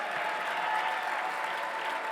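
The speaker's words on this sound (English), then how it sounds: "Give John a round of applause" A crowd at a West Virginia University football press conference gives a short, steady round of applause, even and sustained throughout.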